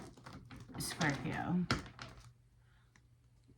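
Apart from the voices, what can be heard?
tarot cards being shuffled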